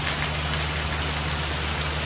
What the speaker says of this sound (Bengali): দেখতেই পাচ্ছেন অসাধারণ বৃষ্টি